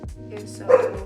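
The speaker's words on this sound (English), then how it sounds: "sorry, that was my dog." A pet dog named Coco barks once, fairly close, in a home setting, with a brief bit of talk over it.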